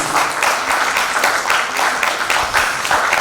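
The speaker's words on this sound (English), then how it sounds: "Can we have a clap for her, please?" An event audience at a gathering claps steadily in dense, even applause for a host, with a faint voice underneath.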